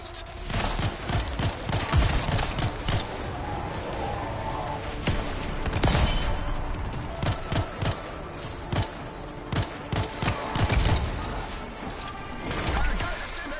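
Rapid gunfire in the video game Anthem, dense bursts and volleys of shots with thuds and crashes, loud and continuous throughout.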